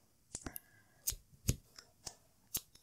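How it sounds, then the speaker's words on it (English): Scissors cut a length of doubled embroidery thread, giving a handful of sharp, close snips spaced irregularly over a few quiet seconds. "and then I'm just going to cut the end."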